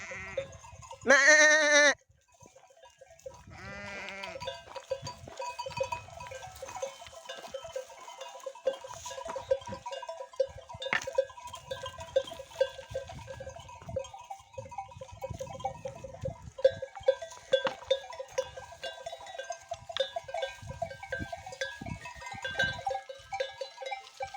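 Sheep and a goat kid on a mountainside, with a loud bleat near the start and then quieter scattered bleats and rustling over a steady, faint background.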